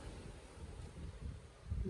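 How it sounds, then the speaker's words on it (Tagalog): Strong wind buffets the microphone outdoors, a continuous low rumbling roar that swells and gusts louder toward the end, with no speech heard. "Sobrang lakas ng hangin"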